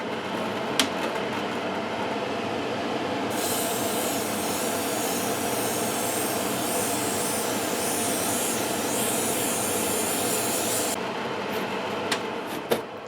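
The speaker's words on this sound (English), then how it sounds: "we're going to get the extractors going, and we're just going to get a first coat of paint on this." Spray paint hisses steadily for several seconds as a base coat goes onto a 3D printed Star Wars Y-Wing model, over the constant whooshing hum of extractor fans running throughout.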